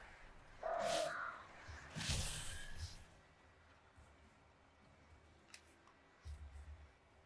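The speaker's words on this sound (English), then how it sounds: "Oh, okay, or there's crows." Crows caw in the horror video game Alan Wake 2, a couple of harsh calls early on and then fainter sounds against a quiet, low ambient background.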